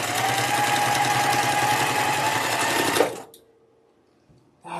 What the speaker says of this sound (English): I do have the diagonal tape on my sewing machine, so that will allow me to sew this straight line